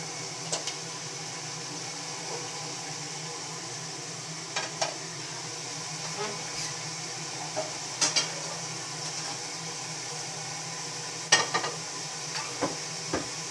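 Eggs frying in oil in a pan on a home kitchen stove, a steady soft sizzle running throughout with occasional light clicks and utensil taps, fairly quiet and with no talking.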